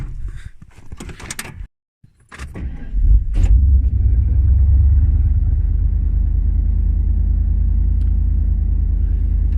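A pickup truck's engine runs steadily while driving, a low continuous rumble that settles in after a few seconds of door and cabin clatter at the start.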